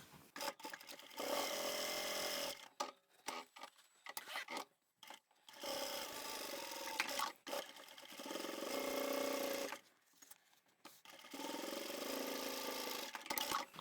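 Sewing machine stitching a zippered pyramid pouch's lining, several bursts of rapid mechanical whirring separated by short pauses, close and moderately loud.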